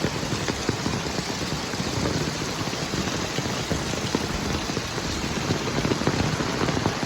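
Heavy rain pours steadily, a dense continuous hiss of drops hammering a surface, loud and close with a faint low engine hum underneath.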